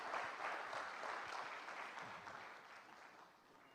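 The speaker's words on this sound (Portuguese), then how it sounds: "Aplauda o Rei e pode se sentar" A congregation at a Portuguese-language worship service applauds, a soft wash of clapping that starts fullest and slowly fades, faint and distant throughout.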